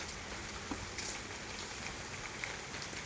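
Steady rain falling on a green, rainy day near a village pond, a soft continuous wash of drops with a few faint tapping accents, no talk.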